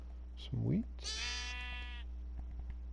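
A Minecraft sheep bleats once, a clear wavering cry near and alone, just after a short low vocal sound.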